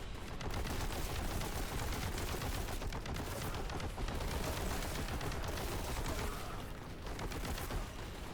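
Continuous dense gunfire in Warhammer 40,000: Boltgun, with rapid automatic shots and heavy weapon blasts blending into a sustained, loud barrage that runs unbroken for the whole stretch.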